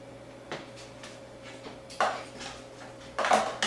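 A spoon scoops ground flax flour into a blender, giving a few soft taps and scraping clinks, louder toward the end, near and with no talk.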